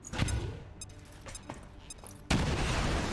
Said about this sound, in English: Takes out the wall, deals some damage.